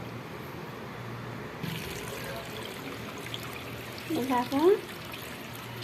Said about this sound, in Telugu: ఇది వేసుకున్న తర్వాత వాటర్ పోసుకోవాలి పైపుతోటి